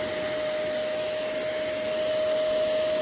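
A corded Intercleaner vacuum cleaner with a 400W motor runs steadily at full suction, a loud constant roar with a sharp, sustained whine on top and no pauses.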